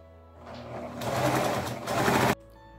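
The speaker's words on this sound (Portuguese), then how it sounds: "vou para a máquina de costura" A sewing machine stitches fabric scraps together for a patchwork heart, its motor spinning up into a steady, close, rapid whirring chatter for over a second before stopping abruptly.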